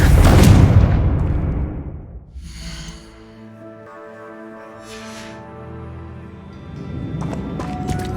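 A Confringo blasting spell detonates in Hogwarts Legacy, one loud low-heavy blast that dies away over about two seconds, then a lingering tonal magical hum and shimmer, with a fresh rumble rising near the end.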